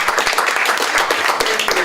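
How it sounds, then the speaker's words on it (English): An audience at a club installation ceremony applauds its newly elected first president, a dense, lively burst of clapping from many hands, loud and continuous throughout. "let us give a big round of applause"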